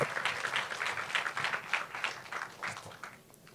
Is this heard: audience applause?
yes